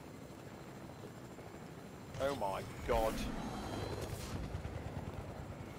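A helicopter in a Fortnite match drones as a low, steady rotor rumble under a player's startled exclamation, swelling briefly in the middle of the stretch.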